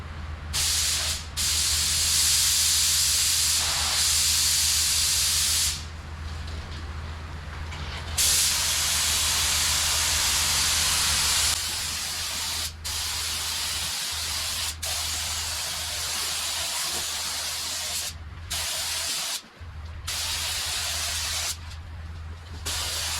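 Spray gun laying down clear coat on a GM truck's replaced rocker and cab corner, a steady loud hiss of atomized paint in long continuous passes broken by brief pauses between strokes, with no talking.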